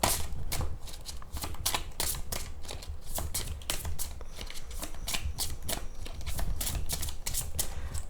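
Psychic tarot cards being shuffled by hand, a rapid irregular series of crisp flicking and riffling snaps, close and moderately quiet, continuing steadily throughout.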